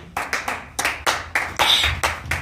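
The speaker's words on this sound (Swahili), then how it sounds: "Mshampie Bwana Yesu makofi." A church congregation claps in rhythm during a Friday night vigil service, with loud clusters of claps arriving in uneven bursts that swell toward the end, no voices over them.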